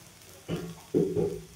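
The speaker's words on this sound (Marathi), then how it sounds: "बघा, दोन्ही साईडने छान भाजून घ्यायचं" Mixed dal dosa roasting on a hot pan gives a soft, steady sizzle with a few louder bursts of crackle, close and alone with no talk.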